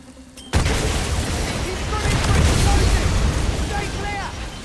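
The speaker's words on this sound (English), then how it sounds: "Grenade out!" Grenade blast in the video game 007 First Light, a sudden loud boom that gives way to several seconds of rumbling, crackling debris and battle noise.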